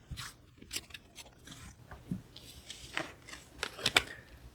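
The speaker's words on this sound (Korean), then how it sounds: "확실하게 또 말씀을 드리기 위해 카드도 간단히 뽑아보도록 해볼게요" Tarot cards are shuffled and drawn, with soft, quiet rustles and crisp card snaps in irregular bursts, faint and close with no voices.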